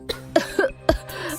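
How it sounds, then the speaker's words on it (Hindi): A woman coughs several times in quick succession, close and clear, with short harsh bursts. "तुम ऐसे खांस क्यों रही हो?"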